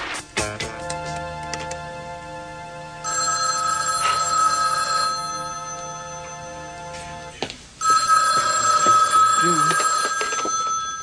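A telephone rings loudly in a room in a soap opera scene, with a steady electronic ring that pauses briefly and then starts again.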